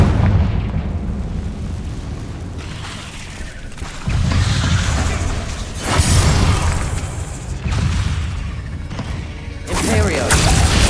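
Booming blasts from the Confringo spell in Hogwarts Legacy, with several loud explosive bursts and rumbling crashes spaced a couple of seconds apart, mixed with spell-casting voices and game effects.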